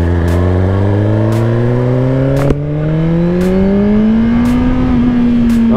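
A 2022 Suzuki GSX-R1000R motorcycle pulls hard, its loud engine note climbing steadily in pitch through the gears, heard close from the rider's position with a brief dip at a shift.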